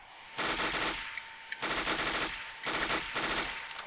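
Automatic weapon fire in the CS:GO video game: three loud, close bursts of rapid shots, each lasting about a second, separated by short pauses.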